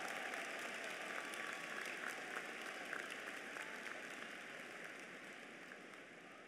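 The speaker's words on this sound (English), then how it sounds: "Give them all a round of applause." Graduates at a 2014 spring undergraduate commencement ceremony applauding their families, a broad, distant wash of crowd clapping sustained evenly across a large hall.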